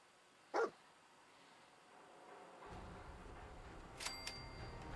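Dogmeat, the dog in Fallout 4, gives a single short sharp bark early on, followed by quiet game ambience and faint clicks.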